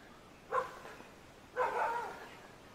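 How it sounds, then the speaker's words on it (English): A dog at a Buddhist temple compound in Kanchanaburi, Thailand, gives two separate barks about a second apart, moderately close, the second one longer and rougher, with quiet background between them. "My dog's barking."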